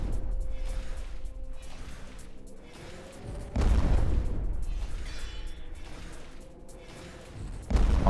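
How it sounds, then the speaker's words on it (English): Deep booming explosions go off in a video game, with a quieter stretch of crackling and mechanical noise before two loud, heavy blasts that ring out, the second near the end. "We want big explosions."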